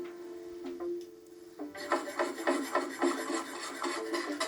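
Fresh dill is finely chopped with a knife on a wooden board, a quiet start giving way to a steady run of soft, rapid rubbing chops that continue to the end without any talk.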